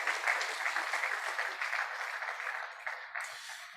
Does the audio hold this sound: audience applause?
yes